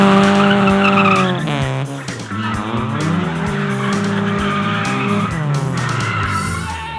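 Car wheel spin on an autotest course, with a loud, continuous tyre squeal and revving engine whose pitch sweeps up and down through the run, close and dominant with no talk.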